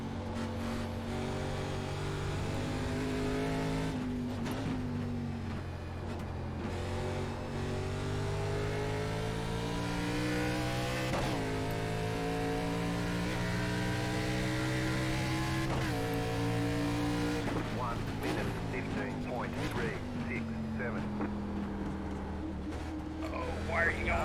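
Race car engines in the iRacing video game at Watkins Glen during an ARCA Series eNASCAR event, a steady high engine drone with rising and falling revs through corners, continuous under a commentator's talk.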